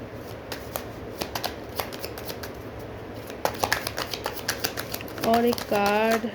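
Tarot cards are shuffled by hand at close range in a run of quick papery riffles and taps, ending in two louder, rapid riffle bursts. A voice is faintly present in the background.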